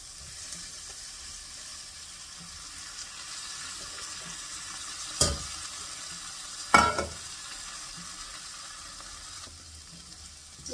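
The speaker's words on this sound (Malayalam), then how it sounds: "കുറച്ച് നേരം നല്ലപോലെ റോസ്റ്റ് ചെയ്യണം" Broken wheat roasts in a pan with a steady, faint dry hiss. Two short, louder scrapes and clinks from the stirring utensil stand out. There is no talking.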